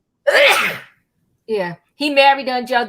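A single loud, close sneeze bursts out, then a person talks briefly.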